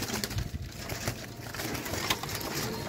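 Pigeons cooing softly at close range amid a faint rustle of wings and movement, with low repeated coos rising and falling against quiet background noise.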